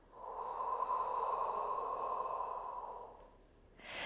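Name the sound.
exhaling breath during Pilates exercise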